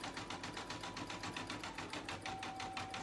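An embroidery machine stitches a freestanding lace heart in satin stitch. It gives a fast, steady, rhythmic mechanical clatter that stays even at moderate volume for the whole stretch, with a faint whine running underneath.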